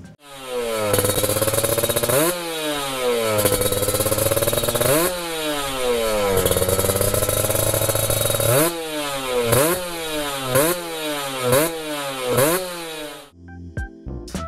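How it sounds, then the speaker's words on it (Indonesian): A two-stroke Kawasaki Ninja motorcycle engine revs hard again and again, its pitch repeatedly climbing through the gears, loud and close, then dropping to a sputtering idle. "Suara Kawasaki Ninja, mau itu R ataupun RR, semuanya gurih-gurih nyoy."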